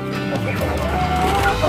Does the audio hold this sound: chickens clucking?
yes